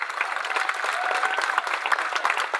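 At a cooking competition event, an audience gives the contestants a hearty round of applause, dense, lively clapping throughout.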